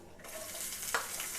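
Chopped tomato and onion hit hot oil in a tempering, a bright sizzle that swells after a quiet start, with a brief scraping stir near the middle, close and moderately soft.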